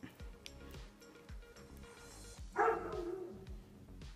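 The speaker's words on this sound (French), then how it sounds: "Ah, ça serait pas ton chien, ça, par hasard?" A small dog barks once or twice mid-clip, fairly near, over a rhythmic mechanical knocking from work on a piston and cylinder.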